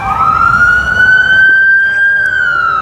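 A loud emergency siren wails steadily as a vehicle passes close by, its long rising-and-holding tone dominating over low traffic rumble.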